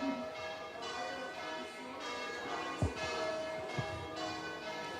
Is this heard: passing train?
no